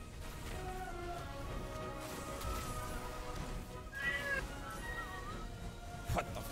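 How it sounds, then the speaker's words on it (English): A house cat meows several times, faint and in the background, under a steady hum and the sounds of a game being played. "My cat made noises."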